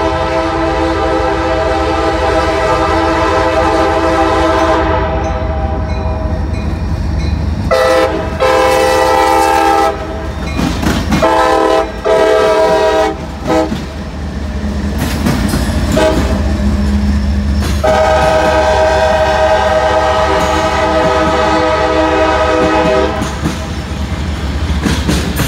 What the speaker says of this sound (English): And first train of the day.